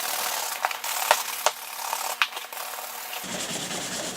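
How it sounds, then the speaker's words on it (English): Steady brisk scrubbing of a brush buffing conditioner off a leather cowboy boot during restoration, close and continuous, with a few sharper knocks of the brush along the way before the strokes turn softer near the end. "we're just buffing out the conditioner with this brush"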